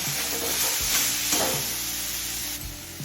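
Cauliflower stems and mixed vegetables fry on a medium flame, a steady close sizzle with stirring scrapes and clatters, alone without voices.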